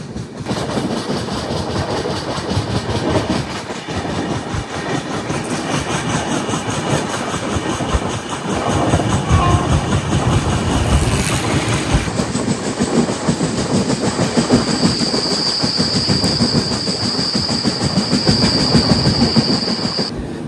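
The Raptisagar Express running on rails through Kerala toward Palakkad: a loud, steady rumble with rhythmic wheel clatter, and a high squeal rising in the second half.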